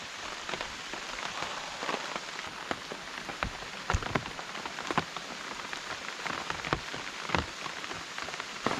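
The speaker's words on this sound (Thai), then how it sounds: "นี่ฝนตก" Rain falls steadily on surfaces around a tall treehouse under construction, a dense continuous patter with scattered louder drops and taps standing out throughout, no voices heard.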